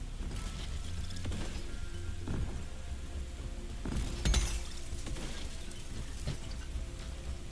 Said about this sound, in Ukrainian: Знов таки дощ.